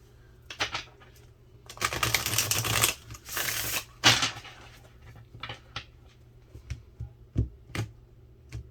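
Tarot cards are shuffled close by: a long riffling burst, then a shorter one, followed by scattered soft taps and card flicks.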